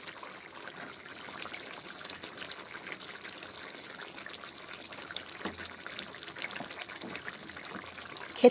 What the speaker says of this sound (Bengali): জল দিলাম, মোরলা মাছগুলো ছেড়ে দিচ্ছি